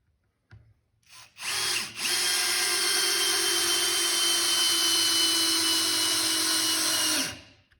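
A Metabo Powermaxx 12V drill/driver at speed 1 drives a screw into a wooden board, its motor whining steady and close for about six seconds before it stops.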